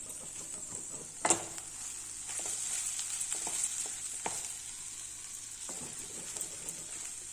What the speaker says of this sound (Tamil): நம்ம இந்த ஸ்டேஜில் சாதத்தை போட்டு கிளறிடலாம்